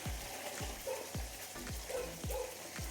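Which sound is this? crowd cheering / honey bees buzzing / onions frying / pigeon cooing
onions frying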